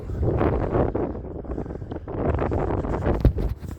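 Wind gusting across an outdoor disc golf course at Sarnia Bay, a loud, rough buffeting rumble that swells and dips continuously, battering the microphone with no voices.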